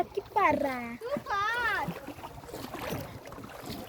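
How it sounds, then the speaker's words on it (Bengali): A small boat glides steadily over water with a low, continuous wash beneath close, lively voices talking over it. "আমাদের নৌকা অটোমেটিক এগিয়ে এগিয়ে যাচ্ছে"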